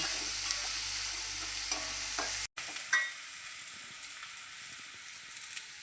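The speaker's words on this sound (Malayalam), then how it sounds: "അതിൻ്റെ പച്ചക്കുത്ത് മാറുന്ന വരെ ഒന്ന് നന്നായിട്ടൊന്ന് ഇളക്കി" Onion masala stirred in a pan for cauliflower curry, with a steady sizzle and scraping strokes; a brief dropout partway through, after which the frying sound comes back quieter.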